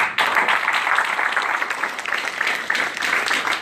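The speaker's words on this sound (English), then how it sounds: "So let's give another round of applause" A crowd at a Houston community census event applauds continuously, a thick, even wash of many hands clapping at close range with no pauses.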